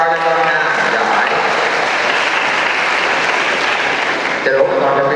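A lively round of applause for a child rises and holds through a church lesson on the Rosary, with dense close clapping mixed with voices.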